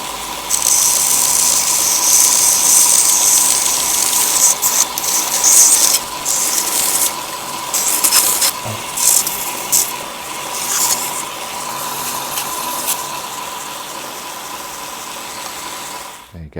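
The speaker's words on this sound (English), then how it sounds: "Just quickly jump on the belt grinder and let's smooth these corners out a little bit" A belt grinder takes the corners off a Damascus knife handle, a steady loud whirring hum with a high abrasive hiss that runs throughout and stops abruptly at the end.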